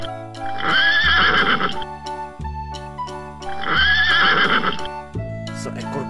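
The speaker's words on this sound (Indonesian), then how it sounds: "Seekor kuda pacu." A racehorse neighs loudly twice, each whinny a shrill, wavering cry, with music playing underneath.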